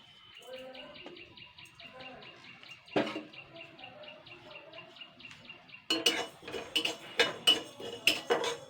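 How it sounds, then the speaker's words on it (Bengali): Coriander seeds are stirred in a hot wok for a curry, with light clicks and faint background chirps at first, then louder, rapid scraping and rattling of the seeds against the pan over the last few seconds. "এটাকে কিন্তু জাস্ট আমি হাফ সেকেন্ড মতো নাড়াচাড়া করে নেব।"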